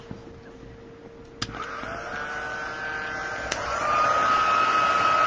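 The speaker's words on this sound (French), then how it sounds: "Et je viens chauffer avec mon pistolet chauffant." Steady whirring blower of a heat gun warming craft material for a scrapbook jewellery box, running continuously at close range and rising slightly in pitch and level partway through, with a couple of faint clicks.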